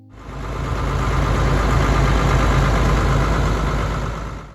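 Case 1070 Agri King tractor from the 1970s idling close by, a steady low diesel rumble with a throbbing mid-range drone that holds evenly for several seconds, no voices.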